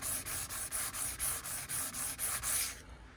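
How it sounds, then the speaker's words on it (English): Hand rubbing compound over a scratch in the front paint of a Fiat Ducato facelift van: about ten steady, even back-and-forth strokes with a soft, hissy abrasive texture, close and alone, stopping just before the end. "I'm only rubbing it really gently."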